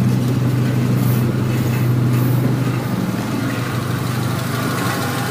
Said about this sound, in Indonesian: Karena knalpotnya pakai knalpot header, jadi suaranya lumayan kenceng.